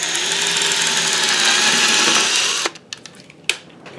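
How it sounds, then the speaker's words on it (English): A power drill bores a hole in a workpiece for a scroll saw blade with a loud, continuous whirring whine that cuts off after a few seconds, followed by a few sharp knocks and clicks. "all you got to do is drill a hole"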